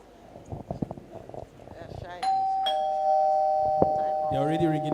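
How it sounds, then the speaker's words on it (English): An electronic doorbell-style chime rings out at a panel session to signal time is up, a sustained tone sounding loud over a noisy room, preceded by voices and clatter. "They're already ringing the bell"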